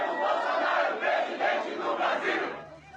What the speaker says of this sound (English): He points to this, the rapturous applause he's receiving as he travels the country